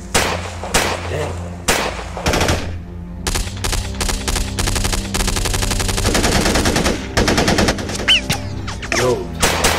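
Loud, close machine-gun fire from a shooter video game, with long rattling bursts and quick single cracks packed densely across the stretch. A voice chimes in faintly now and then.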